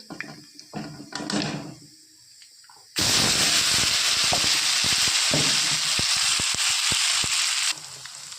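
Taro hits hot oil tempered with nigella seeds, and after some quieter pan clatter a sudden loud burst of sizzling erupts and holds for several seconds, dotted with spatula knocks, then drops back.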